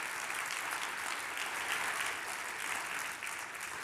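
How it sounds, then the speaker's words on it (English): Applause fills the hall at an education leadership forum keynote, a steady, dense wash of many hands clapping from a large audience, heard at some distance and holding even throughout. "I just want to have everyone give a huge applause."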